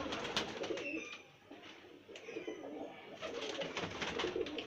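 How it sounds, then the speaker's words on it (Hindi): Flying-breed pigeons kept as breeding pairs coo softly nearby in a quiet setting. A few low, throaty coos come in two bursts separated by a short lull, with no voices. "ज़बरदस्त कबूतर है इंशाल्लाह। परवाजी कबूतर, बच्चे भी गारंटी वाले होंगे इंशाल्लाह।"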